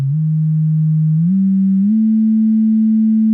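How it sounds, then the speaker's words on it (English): A steady sine wave tone from an Instruō Neóni synth module, loud and alone, stepping up slightly in pitch twice over a few seconds. "we're still listening to the sine wave"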